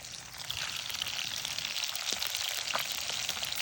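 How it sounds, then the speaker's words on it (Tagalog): Steady, dense sizzling and crackling of fish frying in hot oil, continuous and close, with occasional louder pops and no talking. "So first kay ato sa ipritohon ang isda"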